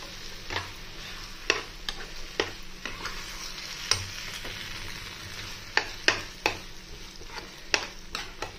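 Mixed vegetables for pav bhaji cooking in masala in a small pot, with a steady soft sizzle under repeated sharp scrapes and knocks of a spoon as it is stirred, close by and with no talk.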